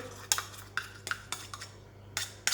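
A metal teaspoon scraping and clinking against a pot while scooping cream into vegetable soup, several sharp separate taps and scrapes at irregular intervals, close and fairly quiet.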